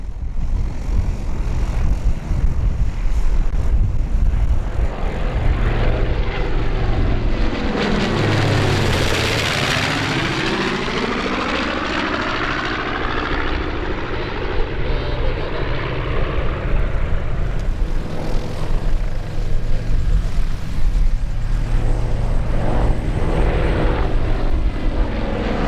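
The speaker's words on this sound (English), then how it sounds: "There's B-25J Betty's Dream, as well as the collections Spitfire and Hurricane." Vintage warbirds, a B-25J Mitchell bomber named Betty's Dream with a Spitfire and a Hurricane, fly in formation at an airshow, their piston engines droning loud and steady, swelling with a clear Doppler sweep as they pass close overhead.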